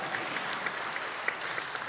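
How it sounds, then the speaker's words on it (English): A church congregation applauds during a Sunday Mass homily, a soft, fairly distant patter of clapping that holds steady for a couple of seconds. "you can applaud"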